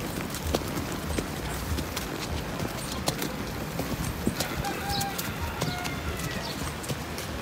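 A horse carries a rider along a trail to a waterfall, its hooves clip-clopping in an uneven walking rhythm that sits fairly faint against outdoor ambience, with a few birds calling now and then.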